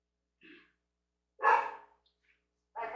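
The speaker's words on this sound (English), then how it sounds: "every time I do a reading, she has to bark" A dog gives a few short, sharp barks indoors, separated by silences, fairly close and moderately loud with no talking.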